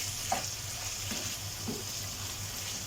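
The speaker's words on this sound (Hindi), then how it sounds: "और इन सब चीज़ों को हम भून लेंगे तकरीबन 30 सेकंड से लेकर 1 मिनट तक, ताकि अदरक लहसुन का कच्चापन दूर हो जाए" Ginger, garlic and green chilli frying in a pan, a quiet steady sizzle with a few soft stirring scrapes.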